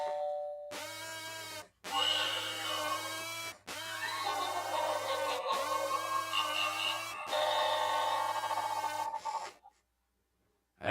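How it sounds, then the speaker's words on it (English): A novelty doorbell rings out a long melodic electronic chime tune in loud repeated phrases with brief gaps, then stops into near silence. "That's my doorbell."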